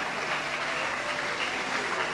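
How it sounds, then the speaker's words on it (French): A concert audience applauds as the band Quartier Latin takes the stage, with steady, moderately faint clapping throughout and no voices. "Merci d'applaudir encore plus fort."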